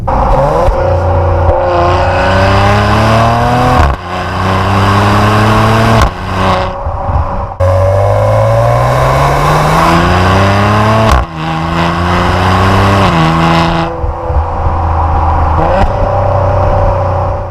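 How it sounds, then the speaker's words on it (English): A 2019 Maserati Levante S SUV's exhaust revs hard several times in sport mode, pitch climbing and dropping between blips, with sharp cuts and pops between the revs, recorded up close. "put it into sport mode. We'll hear that exhaust get a little bit deeper."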